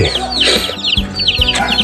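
Free-ranging chickens foraging around a vegetable garden cluck and squawk in quick, overlapping bursts, close and lively, with no one speaking.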